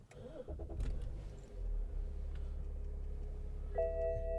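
A 2009 BMW X6 30d xDrive diesel engine is started with a push button, a brief cranking whir catching into a steady low idle rumble, close and heard alone, ending with a faint electronic chime.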